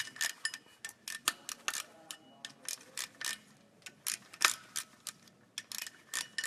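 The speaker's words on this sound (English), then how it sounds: "So now, just run the bolts down." A ratchet runs bolts down during a clutch install on a 2003 Mustang GT, rapid clicking in repeated bursts with short pauses between, close and clear, with no talking.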